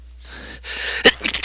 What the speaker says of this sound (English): Something must have made me sneeze.